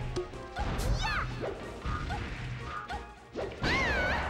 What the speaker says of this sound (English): the dash attack will finally do it for HugS